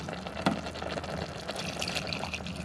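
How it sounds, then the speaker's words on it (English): Water poured into a camping pot inside a hot tent during a winter storm, a quiet steady trickling splash with a small clink near the start. "So I'll add a little bit of this water."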